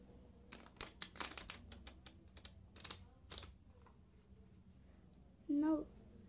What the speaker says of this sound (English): I am going to shuffle the cards.